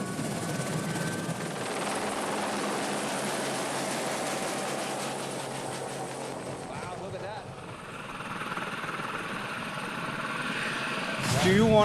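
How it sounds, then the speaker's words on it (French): A helicopter flying toward a snowy mountain gives off a steady, close rotor drone throughout, with voices faintly underneath and a louder surge right at the end. "Le seul moyen d'accéder ici, c'est l'hélicoptère."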